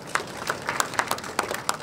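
Audience applause at a lecture, a thin scatter of separate claps from a small group, fairly faint and somewhat distant, irregular rather than a full roar.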